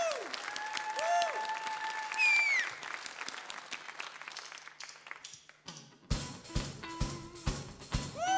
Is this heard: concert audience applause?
yes